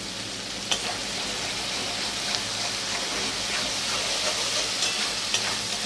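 Fish curry sautéing in a pan with a continuous close sizzle and hiss, broken by a few light scrapes of stirring.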